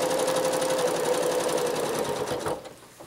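A regular domestic sewing machine runs steadily while free-motion quilting pointy paisley on a big quilt, a loud continuous motor whir with rapid needle chatter that slows and fades near the end.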